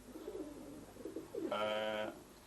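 Racing pigeons coo, a short low warble at first giving way to a louder, sustained call of about half a second near the microphone, with no voices.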